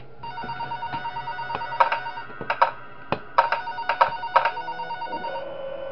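Telephone ringing in the video game Five Nights at SMG4, a series of bright electronic ring bursts in an irregular rhythm, close and clear over a faint hum, with no voices.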